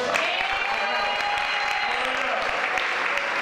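An audience at an evening food, art and entertainment show claps steadily throughout, a dense, even patter of hands with voices and some tonal sound mixed in.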